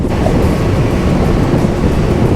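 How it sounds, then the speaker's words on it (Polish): Strong wind roars steadily and loudly across the microphone on a motorcycle ride, a dense broadband buffeting with no break and no speech over it. "Ale wieje!"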